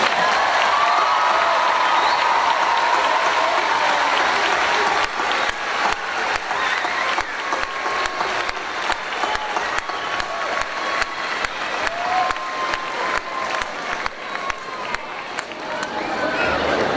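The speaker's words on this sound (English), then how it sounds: "round of applause." Graduation audience at a Bowling Green high school ceremony breaks into sustained applause, dense and steady at first, then thinning into a rhythmic, crowd-wide clapping that carries on for the full stretch without talk.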